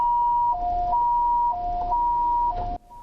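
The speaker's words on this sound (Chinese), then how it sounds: "救护车赶到现场" An ambulance siren wails at a traffic collision scene in Taichung, alternating between two pitches about once per second in a loud, steady hi-lo pattern before cutting off abruptly near the end.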